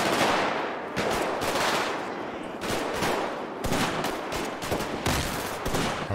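Rapid automatic gunfire in a GTA 5 zombie apocalypse mod, loud sustained bursts separated by brief pauses, continuing through the clip without talk.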